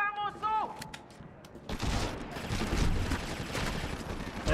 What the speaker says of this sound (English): You can kind of run and gun on this. Just hip firing, you know.